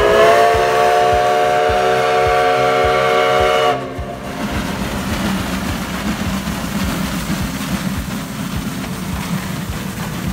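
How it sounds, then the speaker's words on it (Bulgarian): A steam locomotive whistle blows a long, loud, steady tone, then cuts off, leaving the rhythmic chugging and rumble of the engine close by. "дългия самотен рев от свирката на парния"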